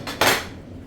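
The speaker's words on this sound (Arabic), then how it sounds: "نبدأ نقطع السمك" A knife cuts through a fish fillet with a short scraping slice against a board, the blade sound brief and close, with no talking.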